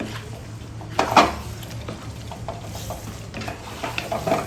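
A spoon scrapes and clinks as chicken chukka is stirred in a pan, giving scattered metallic knocks and scrapes over a low, steady background hum, with no talking.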